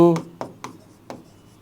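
Numbers being handwritten: a few separate scratchy pen or chalk strokes, close and fairly sharp, spaced apart with quiet gaps between them, following a brief voice at the very start.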